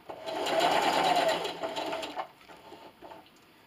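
Sewing machine stitching a pillowcase, a steady rapid mechanical whir that runs for about two seconds, then slows and stops with a few faint clicks.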